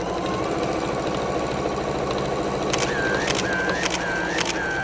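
A sewing machine topstitches a jacket pocket with a steady, fast mechanical whir and a low motor hum. Near the end a few short higher whines come and go over the continuous running, and nobody talks.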